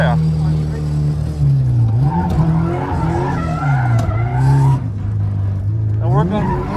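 K-swapped Nissan S14 sliding sideways while drifting, tires skidding and squealing over a loud, strained engine whose pitch rises and falls, with voices talking over the noise.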